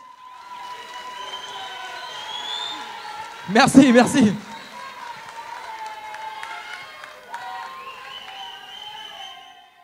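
Talent show audience in Calais applauding and cheering, a brief loud burst of claps and shouts amid a man's French speech over background music.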